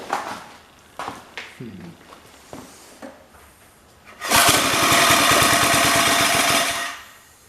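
A 1960s Cyclone tiller engine comes to life after several short knocks and tries, then throttles up into a loud, rapid, sputtering roar for about three seconds before dying away.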